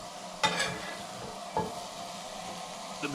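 Potatoes fry in a pan inside a winter camping shelter, giving a steady, low sizzle with three distinct spatula scrapes spaced across it, close by and with no talking.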